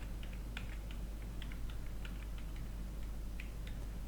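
Keys tapped on a computer keyboard while entering grade letters into an Excel spreadsheet: faint, irregular clicks in short bursts over a steady low hum, no voices.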